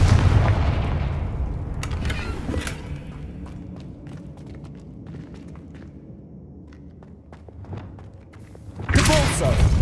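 Confringo blasting spells explode in the video game Hogwarts Legacy: a heavy booming burst opens, sharp thuds and cracks scatter through a quieter middle, and another loud blast hits at the end.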